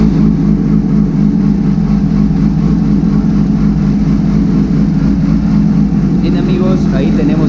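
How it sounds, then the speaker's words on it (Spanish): A Yamaha R6 motorcycle engine runs steadily close by with a low, throbbing idle, and a voice speaks over it near the end. "Ahora vamos a encender la moto y vamos a ver cuánto nos marca."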